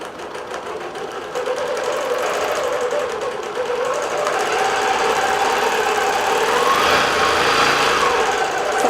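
Digital quilting machine stitching a swirl paisley pattern, a loud, fast, continuous mechanical whirring and knocking that holds steady and rises slightly as it speeds up.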